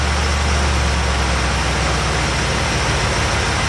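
A car engine idles with its ignition timing being adjusted at the distributor, a steady close, loud low rumble running unbroken under a broadband hum, the speed easing down slightly.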